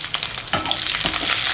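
Curry leaves and green chillies sautéing in hot oil for Tirunelveli sodhi, a loud close sizzle that jumps sharply midway as more goes into the pan, with light stirring and no voices.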